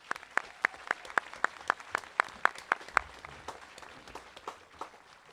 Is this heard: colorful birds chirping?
no